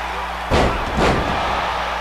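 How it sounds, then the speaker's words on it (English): A wrestler body slams an opponent in a royal rumble wrestling video game, giving two heavy, booming thuds about half a second apart over a low, constant background hum. "Beetlejuice slams down Sonic"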